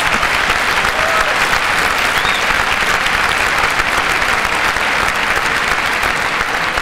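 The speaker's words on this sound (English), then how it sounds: "You guys deserve a huge round of applause." A large audience at the 2010 Bentley University undergraduate commencement breaks into sustained applause, a loud, dense, even roar of clapping with no talk over it.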